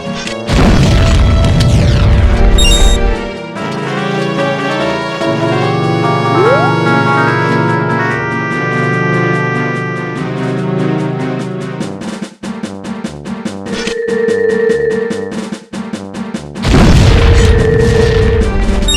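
A bomb blowing up snowballs in The Legend of Zelda: Majora's Mask, in a mountain area: loud booming blasts at the start and again near the end, surrounded by steady in-game music tones.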